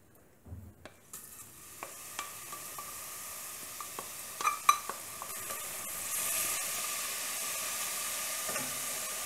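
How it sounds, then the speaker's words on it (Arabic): Spinach sautés in olive oil in a pan, a steady soft sizzle with faint hiss building over several seconds, punctuated by occasional light clicks and taps of stirring, fairly quiet and with no talking. "لي زيبينار كنشحرهم في زيت الزيتون"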